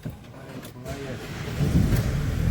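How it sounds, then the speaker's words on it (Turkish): A car engine in a Turkish driver's car turns over and catches, settling into a steady idle that grows louder toward the end; someone talks over it. "Şimdi arabayı çalıştıracağım."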